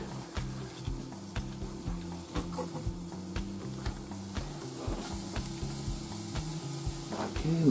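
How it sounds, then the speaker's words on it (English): In a skillet, shallots sizzle steadily while a utensil stirs and scrapes through them in repeated rhythmic strokes, up close and without talk. "I'm going to stir this around a bit until our shallots are translucent"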